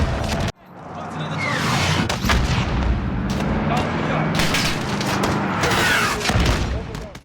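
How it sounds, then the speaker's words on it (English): AC-130 gunship fire in the video game Call of Duty: Modern Warfare, heavy booming cannon shots and rolling explosions in rapid succession, loud and dense under a game voice. "the gunship sequence that brings back those classic AC-130 vibes"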